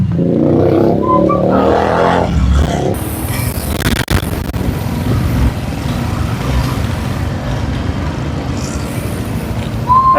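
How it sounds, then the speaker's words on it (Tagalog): A Suzuki Gixxer 250 motorcycle with a noisy drive chain, running up close with a loud, continuous mechanical whir and engine rumble that swells briefly early on, then settles into a steady drone. "Paingay ang kadena mo."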